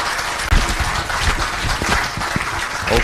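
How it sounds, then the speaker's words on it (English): A town hall crowd applauds county supervisor candidates, a dense, steady clapping that stays loud and close for the whole span, with a sharp onset near the start. "Let's give them a round of applause."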